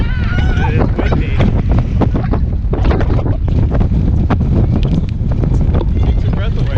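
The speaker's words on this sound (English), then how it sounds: "It is windy." Strong wind buffets the open deck of a ferry, roaring steadily into the microphone with continuous rumbling gusts that run throughout, and a voice is faintly heard under it.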